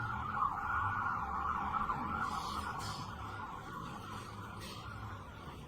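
Emergency vehicle sirens pass outside a courtroom, heard faintly and muffled as a steady wailing tone over low rumbling background noise.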